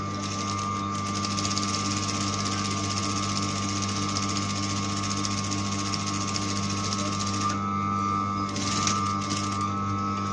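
An industrial sewing machine fitted with a hemmer foot stitches a hem, producing a steady loud mechanical hum with a fast rhythmic clatter that runs continuously and briefly drops in intensity near the end.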